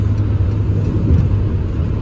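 A Mercedes diesel van engine held at high revs during a diesel particulate filter regeneration gives a steady, loud, close low rumble with an even droning tone and no speech.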